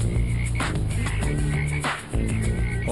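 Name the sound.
bullfrogs croaking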